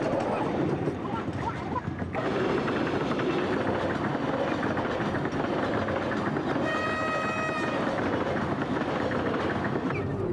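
Train running on rails, a steady broadband rumble filling the whole stretch with a brief dip near two seconds, and a faint tonal whine appearing in the later part, heard without talk.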